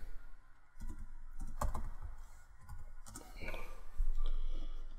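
Close-up typing on a computer keyboard: scattered bursts of sharp key clicks in an irregular rhythm, quiet and near, with pauses between short runs of keystrokes.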